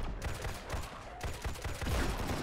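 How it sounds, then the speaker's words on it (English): Repeated shotgun blasts in Fallout 4, several close, loud shots fired in quick succession with dense gunfire filling the whole stretch. "Shotgun."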